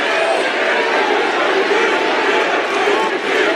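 A wrestling crowd roars steadily at a WWE event, a dense continuous wall of cheering and chatter from a large arena audience with no breaks.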